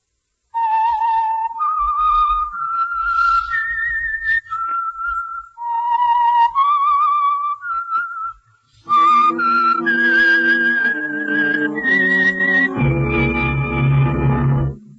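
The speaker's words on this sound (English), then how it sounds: "the signal to listen for is this whistle that identifies the Signal Oil program" A loud, clear whistled melody of rising and falling notes, the signature tune of the radio program The Whistler, joined near the end by a swelling orchestral chord.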